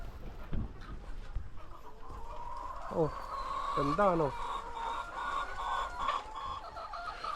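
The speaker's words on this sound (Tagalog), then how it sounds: "Tignan niyo yung mga manok ko." Farm chickens and a rooster clucking and calling at mid distance, with short bursts of squawks around the middle and a voice speaking briefly over the flock.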